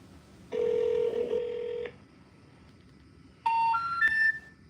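A telephone is dialed with loud, steady touch-tone beeps for over a second, then after a pause a brighter electronic tone sequence sounds, like a call connecting or ringing, with no voices.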